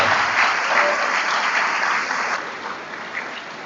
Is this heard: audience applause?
yes